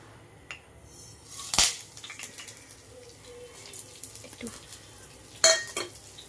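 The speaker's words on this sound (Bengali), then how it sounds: "এই যে দেখতে পাচ্ছ ফোড়নটা ভাজা ভাজা হয়ে গেছে" Kasuri methi tempering in hot oil: a soft, continuous sizzle, with two sharp clatters of utensil against pan standing out above it. No voices are heard.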